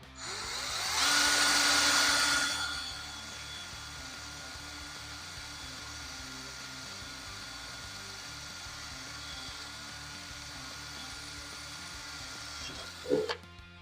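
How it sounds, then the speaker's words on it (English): A power drill bores rivet holes through an LED wheel light ring, whining loudly in one burst of about two seconds before stopping, followed by a quiet steady hum and a short click near the end. "As long as you hold your drill bit or your drill straight, the rivets will go right in."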